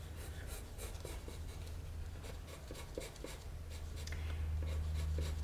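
A pencil writing on paper: soft, close scratching strokes in short repeated bursts over a low steady hum, quiet and alone with no talking.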